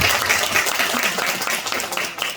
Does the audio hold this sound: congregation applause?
yes